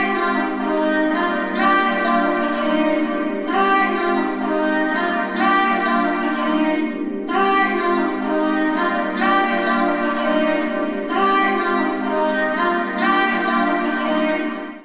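A processed vocal sample drenched in Valhalla plate reverb with automated delay forms a dense, smeared wash of sustained tones that swells in repeating phrases of about two seconds each, steady and full throughout, no speech.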